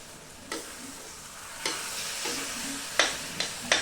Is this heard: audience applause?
no